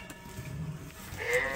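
A sheep bleats on a farm, a short wavering call that rises toward the end, fairly faint over a low background rumble.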